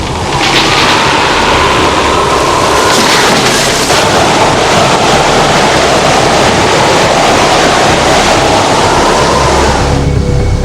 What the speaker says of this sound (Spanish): las olas irrumpen en el interior de la vivienda de Johnny y Kimberly